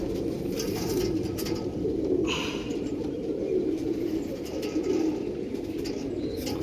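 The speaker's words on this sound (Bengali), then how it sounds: "খুব শান্ত পায়রা, খুব শান্ত পায়রা।" Pet pigeons coo steadily and softly, a continuous low murmur of several birds close by, with no talking.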